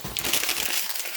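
Old newspaper being crumpled by hand, a close, dense burst of crackling and crinkling paper lasting about a second.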